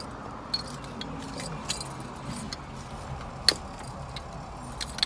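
A bunch of keys jingles and clinks in light, scattered bursts over a steady background hum inside a car, close and moderately quiet.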